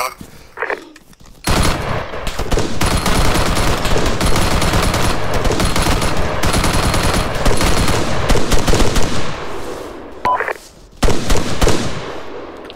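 Automatic and rifle fire in the military shooter Arma 3, with a brief shot and pause followed by about nine seconds of loud, dense sustained bursts, then a gap and one more short volley.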